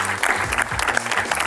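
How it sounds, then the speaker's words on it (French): A brief burst of audience applause greets guests on stage, including a wrestler, with steady close clapping and low crowd murmur underneath. "On les accueille s'il vous plaît, on applaudit une dernière fois."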